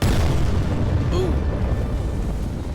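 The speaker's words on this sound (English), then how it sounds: "That ship looked like it just blew up on me." A ship explodes in the space game Between the Stars, a loud, deep booming rumble that hits at once and rolls on for a few seconds, with a brief game voice under it.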